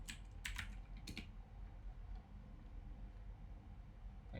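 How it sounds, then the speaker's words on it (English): Several quick clusters of computer keyboard keystrokes, close and crisp, tapping in short bursts at the start, then fading into a quiet room hum. "just type in storage here"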